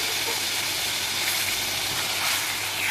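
Two cups of water poured into a hot pan of frying semolina for halwa give a loud, steady broadband hiss and sizzle, close up and continuous, with no talk.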